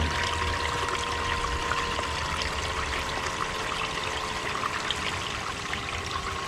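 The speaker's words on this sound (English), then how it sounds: "You have the exact water flow you need just by adding a little bit more or a little bit less" Steady rushing water pours and trickles continuously from a bilge pump outlet, slowed by a speed controller, a constant moderate flow with a faint mechanical hum underneath.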